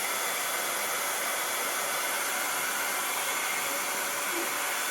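A hair dryer on its cool setting blows steadily to dry stencil paste in a craft session, giving a continuous, even airy hiss throughout with no talk.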